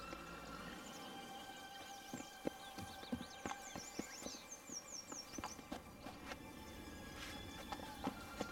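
Roach, the horse in The Witcher 3: Blood and Wine, walks at a steady pace with a regular clip-clop of hooves. Birdsong chirps faintly in the background, and no one speaks.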